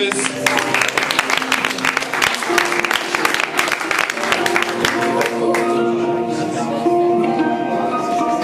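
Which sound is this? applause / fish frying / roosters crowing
applause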